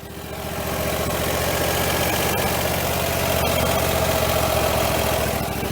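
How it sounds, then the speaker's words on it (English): A lawn mower engine fitted with a new starter and a mulch cover turns over quickly, catches within a second and settles into a steady, loud, close idle with a rough, vibrating drone. "the new starter really kicks over fast"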